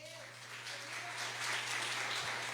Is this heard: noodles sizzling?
no